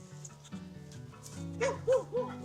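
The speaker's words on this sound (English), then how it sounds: "There's the dog saying hi." A farm dog gives a few short barks and yips close by, over a steady low background hum with occasional faint voices.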